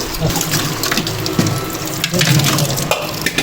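Running water splashes steadily as a fish is rinsed by hand, with brief sloshing and clatter.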